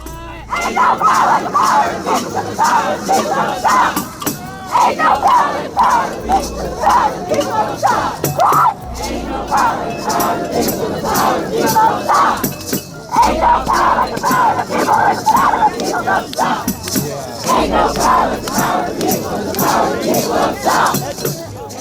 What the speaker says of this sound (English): The crowd chants while waving pride flags